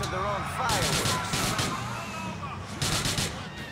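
Gunfire and explosions sound in Grand Theft Auto IV during a grenade fight, bursts of sharp cracks and booms over engine rumble, with someone talking over the action.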